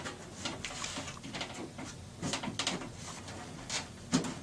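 A wooden drawer of an all-wood cabinet being lifted and fitted into its runners, with several short wooden knocks and sliding scrapes close by, no talking.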